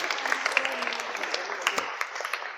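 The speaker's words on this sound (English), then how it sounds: "Round of applause for that." An audience applauds after a comedy magic trick at a live interview night, with dense, steady clapping and a few sharper claps standing out, heard fairly close and continuing for the whole stretch.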